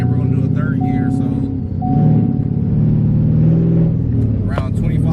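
A supercharged Ford 5.0 with a 10-speed transmission running E85, a loud close engine rumble that rises and holds, with a person talking over it throughout.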